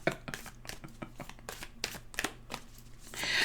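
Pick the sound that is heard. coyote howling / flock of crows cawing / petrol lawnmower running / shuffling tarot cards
shuffling tarot cards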